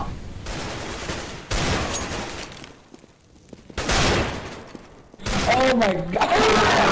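Desert Eagle pistol shots in CS:GO crack out in several loud bursts separated by pauses, mixed with in-game effects, while players talk excitedly over them.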